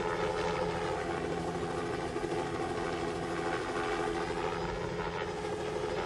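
A Lockheed Cheyenne helicopter with a hingeless rotor flies past, giving a steady, loud rotor and engine drone with a rhythmic throb that holds constant throughout.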